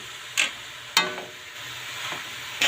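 Soy sauce hits bean sprouts frying in a hot pan, giving a steady soft sizzle with a few sharp hissing bursts as liquid lands, close and fairly quiet, with no talking.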